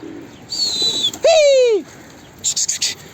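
A bird in an outdoor setting gives a loud, drawn-out call with a wavering tone, followed by a short burst of softer chirps, heard alone with no talking.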